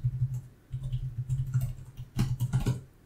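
Someone types a website name on a computer keyboard in short bursts of quick, close key clicks, with a brief pause between runs of keystrokes.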